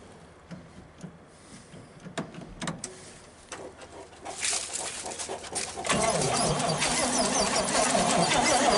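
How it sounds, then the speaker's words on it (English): A 1920s–1950s vintage car engine cranks and catches with help from a battery booster, rising from scattered clicks and birdsong into a steady, loud running roar outdoors, with no voices. "Get that battery gun up and start it."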